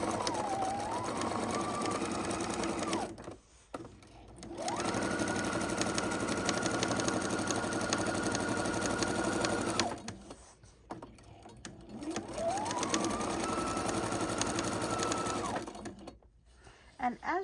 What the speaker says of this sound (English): now we're going to go ahead and stitch the 3 sides